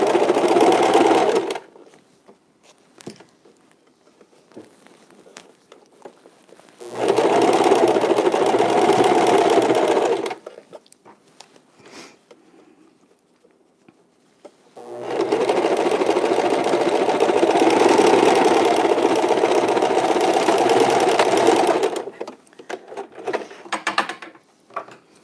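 A home sewing machine stitches the pinned edges of a fabric face mask in two sustained runs of steady, close, loud mechanical whirring, broken by short quiet pauses with faint handling noises.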